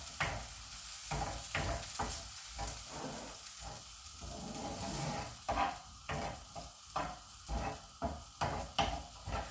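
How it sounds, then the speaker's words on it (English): Vegetables sauté over high heat in a pan for vegetable fried quinoa, a constant sizzle broken by frequent scraping and stirring knocks, close and fairly quiet. "Then you let that saute for about 2 minutes."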